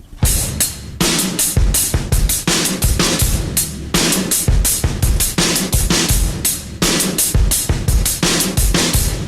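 A drum kit plays hi-hat ostinatos combined with kick drum and snare, a dense loud close groove of rapid hits continuing throughout with no voices.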